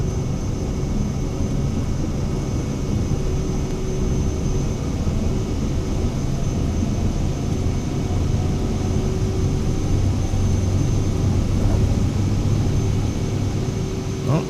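A steady, loud airliner engine drone fills Microsoft Flight Simulator 2020 during takeoff from Santiago de Cuba toward Havana, continuous rumble with a faint tonal hum throughout.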